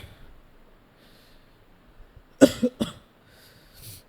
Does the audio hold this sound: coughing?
yes